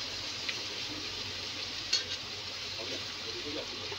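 Round-cut ridge gourd slices hiss in hot oil for an egg fry, a soft steady sizzle with a couple of light stirring taps, faint and close, no talking.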